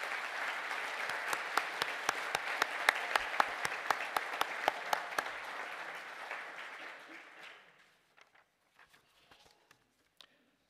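A graduation ceremony audience gives sustained, dense applause for graduates of a science and data analytics diploma, loud at first and then thinning into scattered claps before fading to a few last isolated ones.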